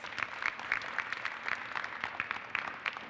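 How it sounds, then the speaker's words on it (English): Audience applause at a school community event, a light, sustained patter of clapping with sharp individual claps standing out, moderately faint and steady for a few seconds with no talking. "Let's give her a round of applause, yes."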